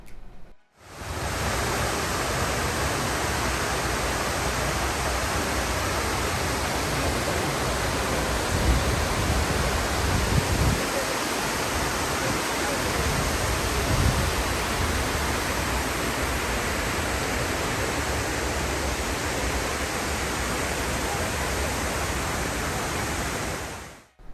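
Cold water flows below near the Statue of Liberty and Ellis Island in New York, a steady, loud broadband rush that stays unbroken and even with no voices over it.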